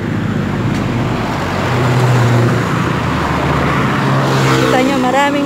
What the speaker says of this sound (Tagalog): Maraming mga sasakyan na dumadaan.